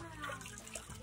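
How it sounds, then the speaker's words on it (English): A tap runs briefly while rinsing during a shave, a soft, steady splash of running water close by, with a faint voice mixed in. "So now rinse."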